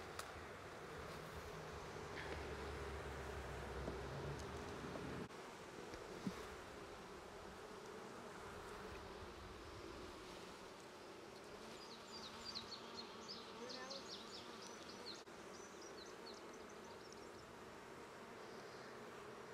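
Honeybees buzzing around hive frames during hive work, a continuous close drone of many wings with occasional louder passes near the microphone and faint handling rustles.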